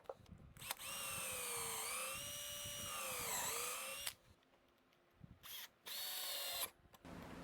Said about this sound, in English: I used 3 screws per shelf, pre-drilling and countersinking the screws.